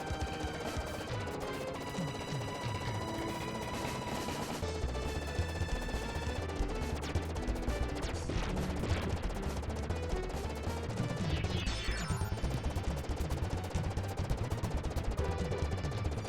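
Rapid gunfire from the Super Nintendo shooter Raiden Trad, a dense continuous barrage of shots layered over game music and explosions, loud and sustained throughout.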